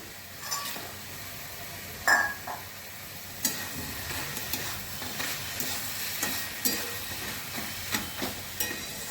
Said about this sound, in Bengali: এবার আমি ভাজা বড়িগুলো দিয়ে দিচ্ছি